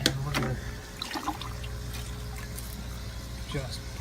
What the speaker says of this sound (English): just pour rotifers through that sieve.